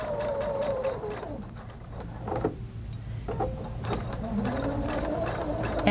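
A sewing machine stitches a paper pieced star block in a close, steady mechanical whir that runs nearly throughout, with faint tonal motor hum rising and falling.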